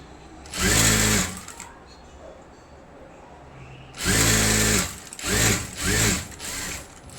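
A sewing machine stitches the back piece of a blouse in four loud, close bursts: one long run near the start, then three shorter runs in quick succession, with quiet pauses between.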